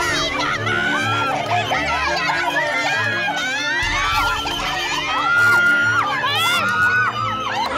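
At a district school running meet, a mother shouts loudly for her athlete daughter while a crowd cheers and children yell throughout, dense and close, with voices rising and falling.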